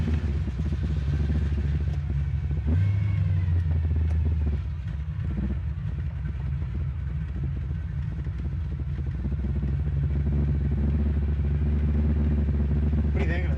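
A 1972 Chevrolet Nova idles with a deep, steady rumble close by, holding an even low drone throughout while people talk over it.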